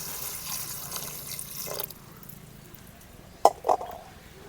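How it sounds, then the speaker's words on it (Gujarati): Water pours into a pressure cooker holding cluster beans set to boil, a soft splashing stream for a couple of seconds that stops, followed by two sharp metallic clicks, with no voices. "એમાં આપણે પાણી નાખી દઈશું"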